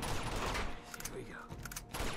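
Gunfire in Uncharted 2: Among Thieves, a ragged burst of shots sprayed over enemies' heads in a firefight, fairly quiet and dense, with rapid cracks blending into the game's background noise and voices underneath.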